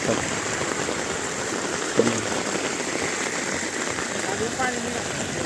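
Heavy rain falling on a paddy field, a dense steady hiss of drops on water and mud, with a brief knock and faint voices in the background.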